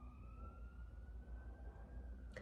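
An emergency vehicle siren sounds faintly in the distance, one long slowly drifting wail over low traffic rumble, quiet and steady without talk.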